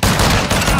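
A dense, loud burst of automatic gunfire fills a brief moment of Call of Duty combat, close and continuous with no talk.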